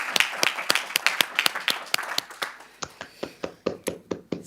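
A small conference audience claps after a panel on inclusive play and playful learning for children, first in quick overlapping claps and then in slower, sharper single claps that thin out toward the end.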